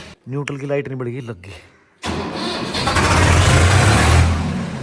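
A Swaraj 100HP tractor, its engine newly changed, starts up after someone speaks briefly; the engine catches abruptly and settles into a loud, steady, rough rumble that fills the rest of the clip.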